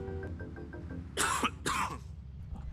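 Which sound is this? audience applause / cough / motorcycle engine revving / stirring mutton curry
cough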